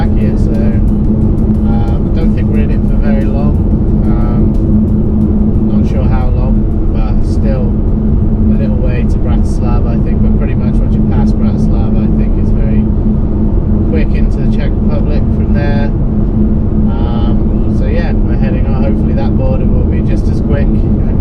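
A cheap used BMW X5 drives on a highway through Slovakia, a steady loud engine and road drone inside the cabin while people talk over it.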